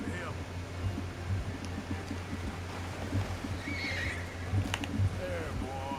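Horse in Red Dead Redemption 2 whinnying and neighing in several rising calls over a steady low game ambience, with hooves faintly clopping and someone talking throughout.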